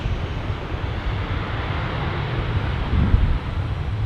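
A Boeing 787 Dreamliner at Manchester Airport gives off a steady low jet rumble, moderately loud and continuous with slight wind buffeting, with no talk over it.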